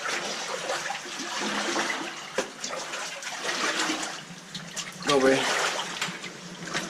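Water runs steadily through a cave tunnel, a continuous hollow rushing and trickling that echoes, with people talking briefly over it.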